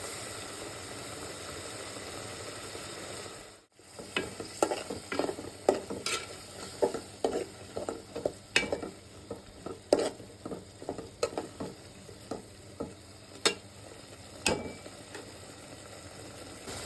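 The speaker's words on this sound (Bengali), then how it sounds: "ডালগুলো সুন্দর করে দিয়ে একটু ভুনে নিব" Washed masoor lentils stir-fried in spiced oil in a pan for a bottle gourd dal: after a brief silence, a close, steady sizzle begins, punctuated by repeated scraping and clacking stirring strokes in an irregular rhythm.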